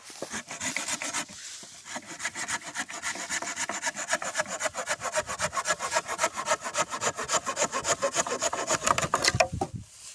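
A hand saw cuts dry wood with rapid, even back-and-forth strokes, close and rasping, sustained for many seconds with no talk.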